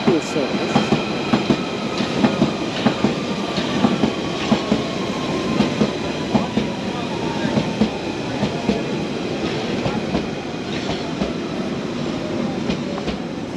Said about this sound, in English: And then the shuttle train goes into the sidings.